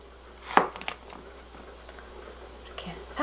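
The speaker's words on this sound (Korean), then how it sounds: "이렇게 삼각형 모양으로 이렇게 썰어줍니다" A knife slices an inexpensive 'ugly' zucchini into triangle shapes, one crisp cut standing out early, followed by softer, sparse taps against the board under quiet, close speech.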